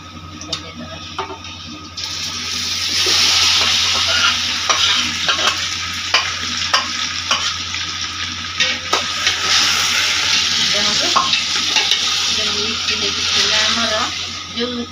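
Marinated chicken for biryani stirred in a pot, a steady close sizzle with repeated scraping and clinking strokes of the spoon throughout, voices talking faintly underneath.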